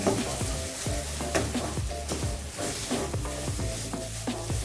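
Almonds being stirred in a frying pan while sugar crystallizes on them for garrapiñadas, giving steady crackling and sizzling with rhythmic scraping strokes, close and continuous and with no talking.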